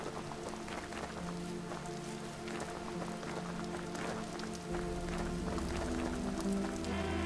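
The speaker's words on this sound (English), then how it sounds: "Alright, it's raining over here." Steady rain falling in the video game Vintage Story, a dense continuous patter with scattered droplet ticks, layered over sustained tonal background music and a low hum throughout.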